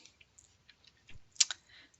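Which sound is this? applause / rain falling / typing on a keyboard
typing on a keyboard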